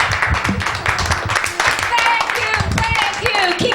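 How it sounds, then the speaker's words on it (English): Clapping and cheering from a small crowd at an open mic night, uneven and lively, with voices and whoops mixed in over the claps. "Round of applause, please."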